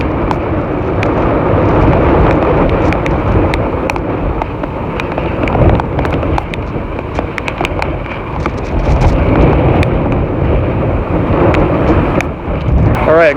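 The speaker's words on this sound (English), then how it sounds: "You almost hear like a wind tunnel effect." A strong, roaring wind from a severe windstorm buffets the microphone continuously, swelling and easing in heavy gusts like a wind tunnel, with rattling and thumping underneath.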